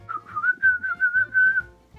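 A person whistles a short, wavering tune of several connected notes, close and clear.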